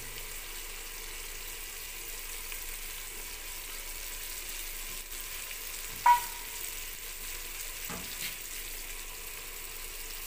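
Browned onions frying with added spices in a pan, a steady low sizzle throughout with a sharp clink near the middle and a softer knock shortly after.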